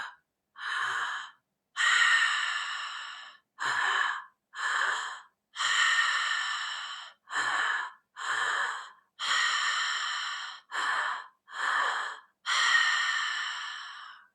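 Deep breathwork breathing done through the mouth, a rhythmic series of about twelve loud, airy breaths close to the mic, each a rushing inhale or exhale separated by short pauses, with no talking.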